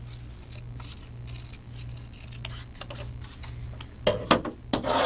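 Scissors snip through paper while cutting out a tiger shape for a paper jungle art project, a run of quiet close cuts and rustles building to a few louder snips at the end.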